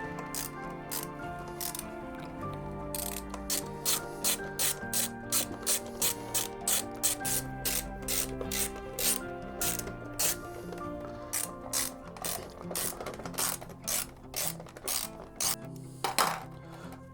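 Ratchet wrench clicking in rapid repeated bursts as cover bolts come off a Kawasaki Vulcan S motorcycle, close and crisp, with short pauses between runs and no talking.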